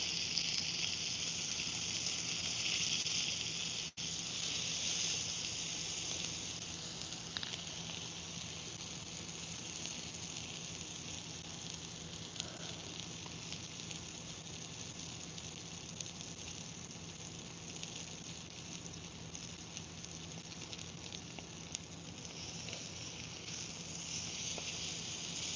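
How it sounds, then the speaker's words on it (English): Steak fat searing on a grill gives a steady, close hiss and crackle that stays even and continuous throughout, with no voices over it. "Sear that fat good."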